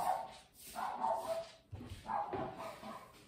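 A dog barks indoors during a Catholic Advent service, giving a few loud, separate barks and yelps at moderate distance, with short gaps between them.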